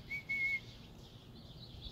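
A woman whistles a few clear, sustained notes of a tune, close and fairly soft, breaking off after about half a second over a quiet room background.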